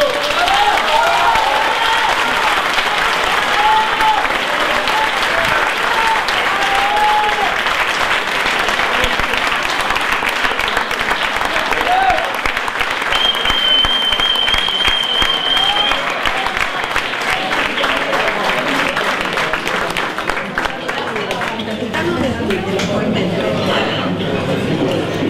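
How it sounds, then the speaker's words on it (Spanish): A large audience at an evening political gathering applauds steadily for about twenty-five seconds, a dense loud wash of clapping with crowd noise, a few shouts and a brief whistle. "Otro aplauso para Hernán"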